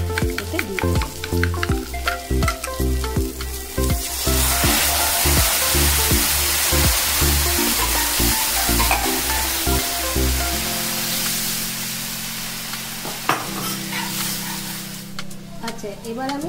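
Spices and turmeric fry in a pan for a Bengali mustard fish curry with bori, starting with loud crackling bursts that settle into a dense, continuous sizzle, then a quieter bubbling near the end.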